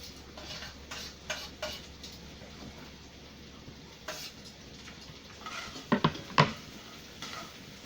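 Garlic stirred around a pan for shrimp spaghetti, with scattered light taps and clinks of a utensil against the pan and a couple of louder scrapes near the end, only a faint sizzle, no voices.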